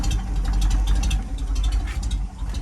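A car engine fitted with a high-performance cam idles steadily after warming up, a continuous low rumble with a rough, slightly lopey texture, close and fairly loud, with no talk over it.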